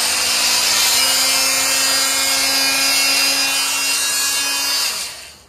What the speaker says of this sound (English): So this is a multi-tool.